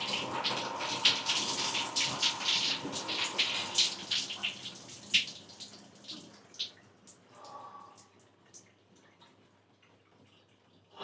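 A home shower runs in a loud, steady hiss with splashing and irregular drips, then is turned off. The rush fades over several seconds into scattered drips and near silence.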